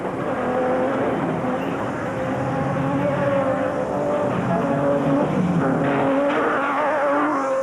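A pack of Nissan production race cars roars at the start of the Carnival City 400 in 2004, a dense, loud, continuous engine din with gear changes and no speech.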